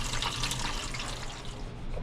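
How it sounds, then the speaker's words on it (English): Water rushing and splashing steadily as the tank of a Hoshizaki ice maker is flushed out, a loud continuous wash of noise from start to finish. "Flush it out the tank."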